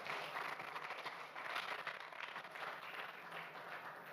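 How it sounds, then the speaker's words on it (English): A faint, distant round of audience applause fills a conference hall at a Ugandan education forum, a continuous soft patter that holds evenly for a few seconds. "Let's clap for Kabera."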